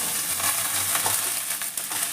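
Chopped onions sizzle in a hot pan for spaghetti sauce, a loud, continuous crackling fry close by with occasional stirring scrapes.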